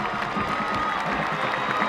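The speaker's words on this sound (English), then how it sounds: "lease join us in celebrating Tony Hernandez, the band student of the week, with a round of applause" A crowd claps and cheers in the stands at a high school football game on parents' night, a steady wash of applause with scattered shouts, moderately distant and without speech over it.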